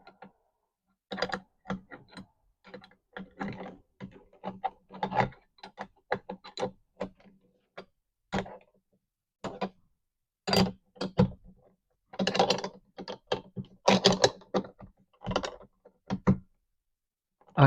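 A wrench tightens a fitting with a burst of quick ratcheting clicks and metallic taps, close and fairly quiet, in irregular clusters separated by short pauses.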